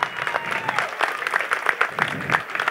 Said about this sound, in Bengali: ওদের জন্য একটা জোরে হাততালি